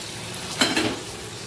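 Fried potato and paneer go into hot oil with spices and are stirred, giving a short sizzle and scrape of a spoon against the pan, brief and close.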